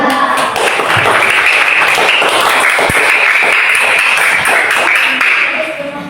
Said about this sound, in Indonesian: tepuk tangan dulu kita semua dulu